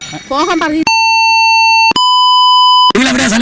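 Two long, loud censor bleeps from a prank phone call cover swearing, each a steady tone lasting about a second. The second bleep has a slightly different pitch. Speech is heard briefly before and after the bleeps.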